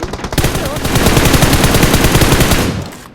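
Rapid automatic gunfire in PUBG Mobile, a dense burst of loud, close shots firing in quick rhythm for about three seconds after a few opening shots.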